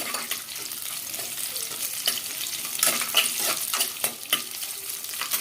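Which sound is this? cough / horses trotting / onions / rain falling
onions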